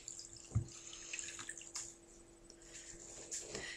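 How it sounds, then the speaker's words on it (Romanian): A small sponge is soaked in lukewarm water for cleansing the face, giving quiet trickling, dripping and sloshing close by over a steady low background hum. "Luăm un burețel pe care îl muiem în apă călduță"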